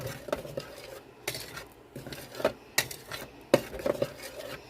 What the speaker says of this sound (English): Stir it up with this spoon.